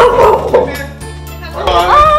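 A Chihuahua barks and yips close by in short excited bursts mixed with whiny whimpering, loud and clear, with faint sounds of people in the background.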